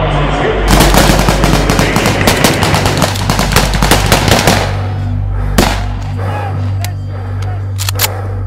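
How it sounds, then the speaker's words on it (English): Rapid bursts of gunshots ring out during a police active shooter training exercise at a Miami ballpark, loud and dense for several seconds, then thinning to a few scattered sharp cracks over a steady low rumble. "Oh, I hear shots."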